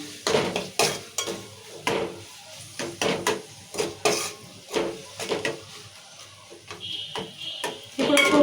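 Chicken with turmeric and salt is mixed in a pot for a village-style curry, giving irregular clinks and scrapes of a utensil against metal with brief pauses, close and fairly loud, and no talk.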